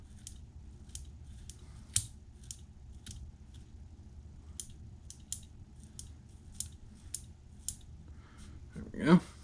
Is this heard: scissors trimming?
yes